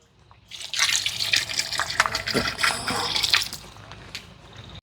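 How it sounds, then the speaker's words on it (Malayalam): Coconut oil poured into a large batch of beef curry cooking for a wedding feast. A steady, close liquid pour with splashing and dripping runs for about four seconds, with no talking. "ഇനി കുറച്ചും പാടെ വെളിച്ചെണ്ണ ഒഴിച്ചട്ടെ"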